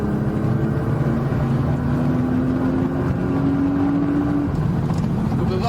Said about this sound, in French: On rentre dans la courbe, on positionne la voiture et là donc on accélère pour la ligne droite.